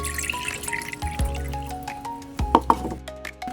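Water is poured into a glass while making smoked fish, giving a gurgling, filling sound with a few sharp drips and clinks near the end, close up with no talking.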